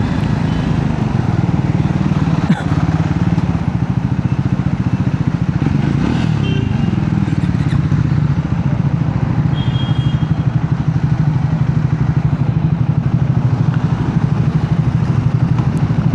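Triumph Scrambler 400X motorcycle engine running steadily and loudly close by, a continuous low rumble throughout with a brief clatter early on.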